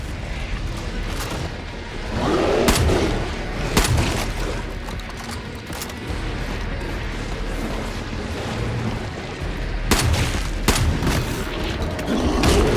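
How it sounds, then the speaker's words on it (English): Gold shotgun in Far Cry New Dawn fires repeatedly amid dense game combat, with sharp booming blasts around the third, fourth, tenth and eleventh seconds over a steady, loud background of action. "This is a gold gun, I remind you. A gold shotgun."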